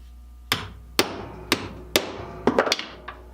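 Hammer blows setting a rivet in a leather sheath for a Stanley scraper plane, four sharp, evenly spaced close taps followed by a quicker cluster of lighter strikes in a quiet workshop.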